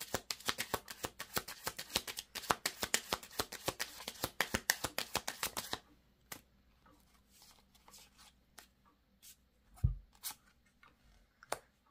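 Tarot-style cards shuffled for a reading, a quick run of crisp riffling snaps for about six seconds, then scattered softer taps and card handling, close and fairly quiet, without speech.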